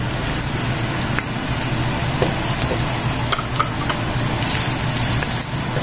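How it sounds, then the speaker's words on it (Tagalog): Crushed garlic sautéing in a pan, a steady, dense sizzle and crackle with small pops scattered throughout, continuous and close with no voices. "and then saute hanggang sa medyo mag-golden brown po itong ating garlic"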